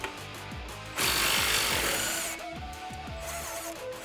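A power tool works on a bolt holding a rear suspension bracket on a 2005-2021 Toyota Tacoma, with a short whirring start, then a loud sustained rattling burst and a winding-down whir, close by.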